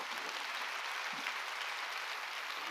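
A congregation claps during a church sermon, a dense, steady wash of applause that fills the room without pause.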